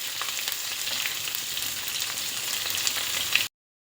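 Chopped onions hit hot oil in a pan for carrot rice, giving a steady broadband sizzle with faint crackles and pops, close and unbroken for about three and a half seconds before cutting to silence.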